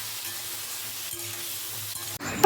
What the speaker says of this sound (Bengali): স্বাদ মতো নুন আর হলুদ দিয়ে আলুগুলোকে লাল করে ভেজে নেব।